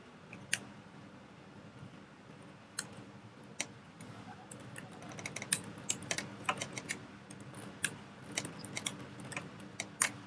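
Fast, irregular clicking of a computer keyboard while someone enters code, the keystrokes close and crisp in quick bursts over a quiet room, without speech.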